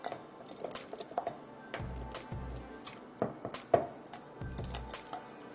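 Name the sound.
mixing eggs and milk in a bowl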